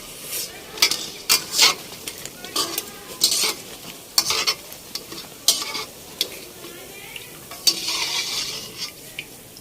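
Oil sizzles steadily while pakoras fry, with repeated scraping and stirring clinks from a utensil against the pan close by.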